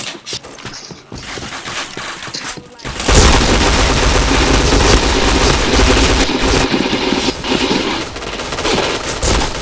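Video game gunfire from a shooter: a few sparse shots at first, then dense, loud rapid bursts and booms that continue almost without pause, with an engine-like rumble beneath.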